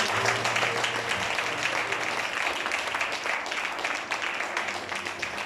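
A church congregation claps together in a steady wash of applause that stays loud and even throughout, with a faint low hum underneath.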